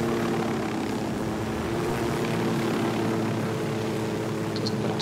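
A helicopter touches down near a road between rock walls in Ghost Recon Wildlands, its engine and rotors droning in a steady, loud hum throughout, with no voices over it.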